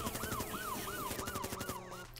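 An ambulance-style wailing siren effect used in an electronic remix, repeating rising-and-falling sweeps in a quick steady rhythm over thumping beats and synth layers.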